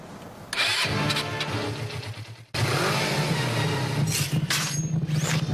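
A motorcycle engine in an anime sputters to life, then catches and roars loudly after a short cut, revving with a harsh mid-pitched drone and no voices over it.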